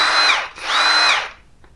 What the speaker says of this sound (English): Here it is. Hercules Ultra Torque, 1/2 inch drive impact.